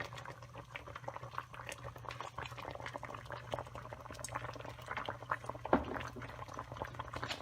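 Olive oil in a hot pan gives off a soft, continuous bubbling crackle with scattered pops and one sharper splash near the end, fairly quiet and with no voices.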